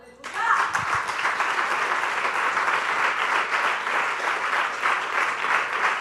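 A church congregation breaks into sustained applause, a loud, dense and steady roar of clapping that starts abruptly and continues evenly throughout.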